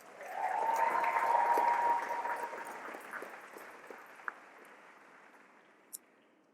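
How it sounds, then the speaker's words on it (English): A law school graduating class applauds itself at its commencement ceremony, a distant, moderate roar of clapping that peaks early and slowly fades over several seconds, with a couple of sharp isolated claps near the end. "Class of 2026, give yourselves a round of applause."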